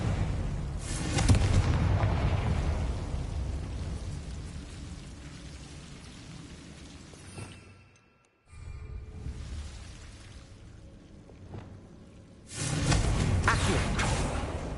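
Confringo fire blast spell in Hogwarts Legacy exploding with a loud booming burst that rumbles and decays, followed after a brief silence by another blast, no speech.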